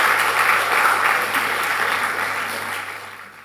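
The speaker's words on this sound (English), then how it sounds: "I honestly think they deserve an even bigger round of applause than they received just now." Applause from an audience at a primary school graduation, honoring children after they sang a school song: steady dense clapping, loud at first and slowly fading over a few seconds, with no talk.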